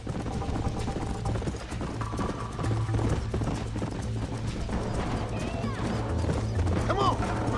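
Horse galloping in the video game Red Dead Redemption, rapid steady hoofbeats with a whinny near the end, heard close under a player talking.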